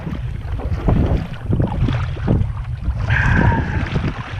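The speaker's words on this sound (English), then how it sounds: "Get a little relief from the wind." Wind buffeting a microphone out on open water from a small boat near a creek, a steady low rumble rising and falling throughout, with a brief brighter hiss near the end.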